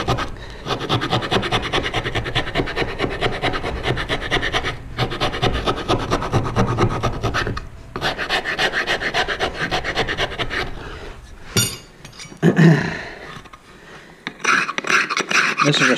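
Sandpaper rubs rapidly back and forth inside the wooden sound chamber of a long box turkey call, a close, steady rasping scrape with brief pauses and shifts in stroke.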